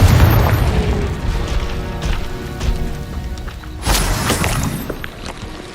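Confringo fire spell blasts in Hogwarts Legacy, heavy booming bursts with crackling, shattering debris, one strong blast near the start and another near four seconds over a dense game soundscape.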